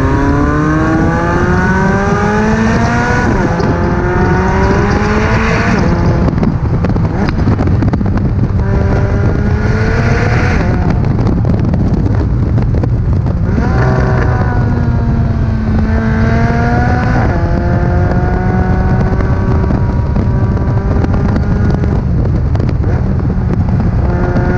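A McLaren sports car accelerating hard through repeated gear changes, its engine note rising in loud sweeping climbs, dropping at each shift and climbing again, heard close from inside the cabin.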